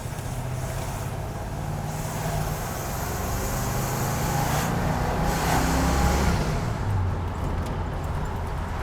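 A 1972 Chevrolet Monte Carlo with a factory big-block 402 engine accelerates on the road, its deep, loud engine roar building steadily over several seconds, recorded from inside the car with no talking.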